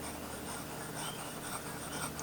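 A Kaweco Dia2 fountain pen with a fine nib writes on paper, giving a faint, steady scratchy rustle of the nib dragging across the page, close and quiet with no talking.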